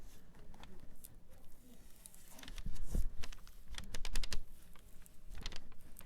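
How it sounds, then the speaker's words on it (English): Transfer tape being peeled off a vinyl stencil by hand, a run of quiet crackling, ticking tears that come in uneven bursts, close and faint. "with one hand holding down the vinyl and the other hand pulling off the transfer tape"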